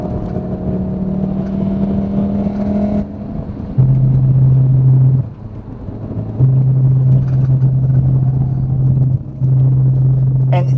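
Volkswagen self-driving race trainer car running on a race track, its engine droning at a steady pitch that shifts between held tones with short dips and surges, close and loud, with no talk.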